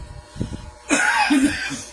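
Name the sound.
cough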